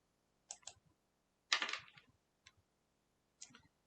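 A computer mouse gives a handful of sharp, isolated clicks spaced across a quiet room, near and faint, with no voices.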